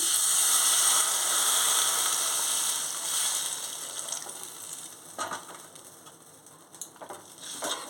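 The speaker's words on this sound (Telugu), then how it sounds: "ఇప్పుడు ఇదంతా వేగింది ఇప్పుడు మనం పులుసు వేసుకోవాలి" Tamarind broth poured into a pan of fried okra and eggs, setting off a bright, steady hissing sizzle that gradually softens, with occasional small crackles and spatters near the end.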